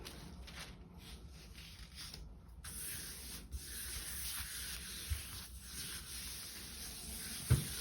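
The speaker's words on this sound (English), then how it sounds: "Give it a little rub" A white tissue is rubbed over a gel printing plate to lift a ghost print of circle patterns, giving a soft, continuous brushing scrape with a few small bumps, quiet and close, without speech.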